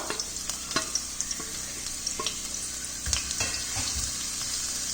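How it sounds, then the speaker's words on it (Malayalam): Sliced onions hit hot coconut oil and fry with a steady crackling sizzle, broken by sharp ladle clicks and then a louder stirring, scraping stretch near the end. "ഇനി ചൂടായിട്ടുള്ള എണ്ണയിലേക്ക് നമുക്ക് മുറിച്ചെടുത്ത് സവാള ഇട്ട് കൊടുക്കാം"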